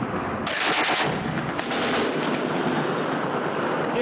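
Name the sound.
artillery gun firing at militant positions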